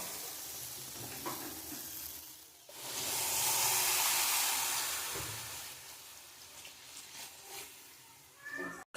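Jujube (kul) pickle frying in a pan as sugar-candy (batasa) water is poured in, village-style cooking, a sudden loud broad sizzle and hiss that swells for several seconds and then slowly fades, with clinks around it.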